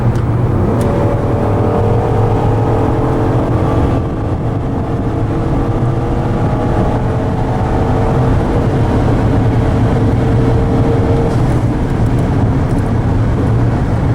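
Loud, continuous engine roar from inside a 2014 Ford Taurus under hard acceleration from 85 to about 120, droning steadily with heavy road noise and no talking.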